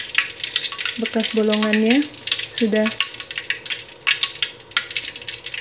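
Small cornstarch donuts sizzle in hot oil with crackling, spattering bursts close by, while someone speaks briefly over the frying.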